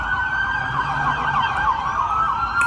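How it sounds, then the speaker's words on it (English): A siren wails continuously at a steady distance, its pitch sweeping up and down over a low rumble of street noise. "You hear the police, but nobody cares."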